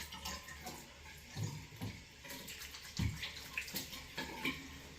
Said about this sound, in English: Okay, let's wash the face up.